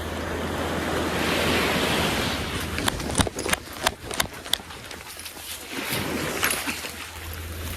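Ocean surf rolling onto a sandy beach during shore fishing, a broad rushing wash swelling and fading, with gusty wind buffeting the microphone and a few sharp knocks.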